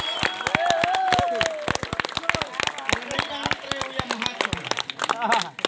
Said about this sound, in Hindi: छत्तीसगढ़ में गड़ी जोरदार ताली होना चाहिए